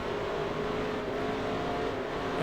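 Race car engine in NASCAR Racing 2003 at Dover, a steady loud drone that holds level throughout with no talk over it.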